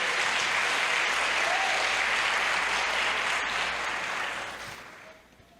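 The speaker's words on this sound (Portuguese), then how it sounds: "Vamos aplaudir ao Senhor por isso." Church congregation at a sermon applauding in a thick, sustained wash of clapping that stays steady and loud for several seconds before tapering off.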